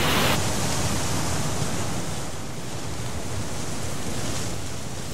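Atlantic Ocean surf at Keta, Ghana, where the sea meets a lagoon-side town, a steady broad roar of breaking waves and wind, loud and continuous with no voices.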